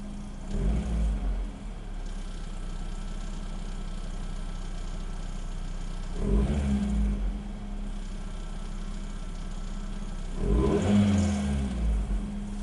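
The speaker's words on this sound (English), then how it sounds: "the low RPM starting of the engine." Nissan Primera engine idling at low RPM during a service, with a steady, even hum broken by three short revving bursts spaced several seconds apart, close and alone without talk.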